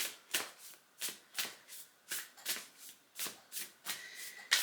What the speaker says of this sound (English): Give him a good shuffle.